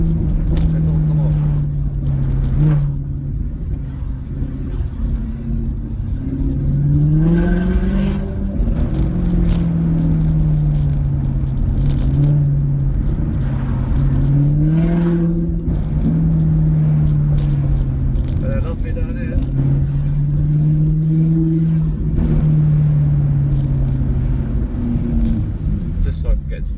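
A Maserati GranTurismo S fitted with sport catalytic converters and silencers gives a deep exhaust drone that swells and falls with revs, with occasional crackling pops. Voices talk over the engine throughout.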